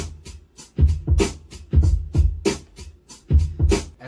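Keyboard-programmed drum beat with punchy kicks and snappy hits in a steady repeating pattern, loud and alone with no voices.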